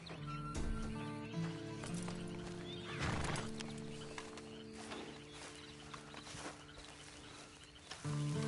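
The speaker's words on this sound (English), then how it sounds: "Then you better get on this horse." A horse whinnies loudly close by, then hooves clip-clop at a slow walk, with a few more snorts and hoof strikes over a faint outdoor background.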